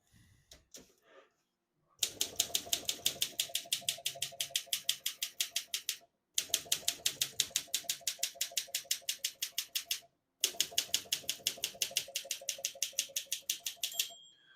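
Rapid, even mechanical clacking of vintage portable typewriter keys in three long bursts separated by brief pauses, close and crisp, with a small margin bell ding at the end.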